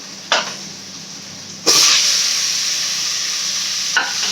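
Tomatoes drop into a pan of sautéing onions and whole garlic for a prawn curry. A short spatter comes first, then a loud sizzle erupts and carries on steadily, with a light scrape near the end.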